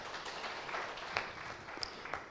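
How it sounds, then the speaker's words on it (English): Audience at an annual PhD symposium clapping, a soft, fairly quiet spread of applause with a few sharper claps standing out. "Maybe you can clap for yourselves."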